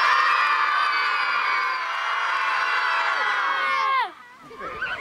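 A crowd of children shriek together in one sustained, loud scream on cue for a castle show, holding it for about four seconds before it cuts off abruptly into brief scattered voices.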